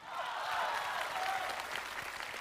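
A theatre audience at a televised crosstalk comedy show applauds, a dense, even wash of clapping that swells quickly and holds steady throughout.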